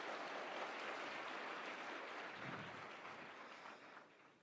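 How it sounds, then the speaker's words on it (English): An audience at Nairobi School applauding a guest, a dense continuous wash of clapping that holds steady and then tapers off toward the end. "a clap for Mudavadi"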